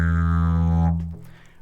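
A didgeridoo holds a steady low, buzzing drone with no voice added, lasting about a second before the breath runs out and the tone fades away.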